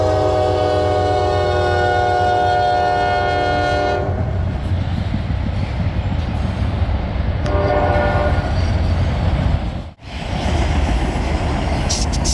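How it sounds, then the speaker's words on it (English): A Norfolk Southern freight train running on distributed power passes close by on the D&H line. A loud multi-tone horn blast comes first, then a steady rumble and wheel clatter, with a brief second horn partway through. "there's a locomotive at the end or in the middle of the train that is either pushing or shoving with no one in the cab"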